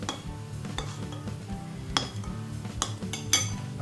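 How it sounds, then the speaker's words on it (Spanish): Melted chocolate mixed with puffed millet is stirred in a pot, a steady scraping of the utensil against metal with several sharper clinks, close and continuous, no voices. "Es irlo removiendo y que se vaya enfriando."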